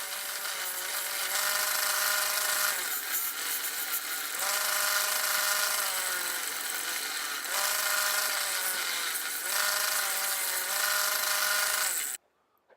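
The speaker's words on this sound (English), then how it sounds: "Onto the bench grinder to scrub the welds with the wire wheel." Bench grinder wire wheel scrubbing welds on steel parts of a telescoping end table, a loud steady whirring hiss that swells and eases in several passes, then cuts off abruptly near the end.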